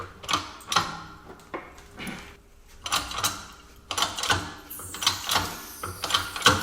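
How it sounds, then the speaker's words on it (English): A 12-ton workshop press forcing a ball joint out of a Jaguar S-Type suspension part, giving irregular mechanical clicks, ratcheting knocks and metallic creaks, close and fairly loud, with a few sharper bursts toward the end. "that's a 12-ton press"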